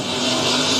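Race cars on the final lap at Southern Oregon Speedway in Medford, Oregon, make a loud, continuous engine roar in a brief burst.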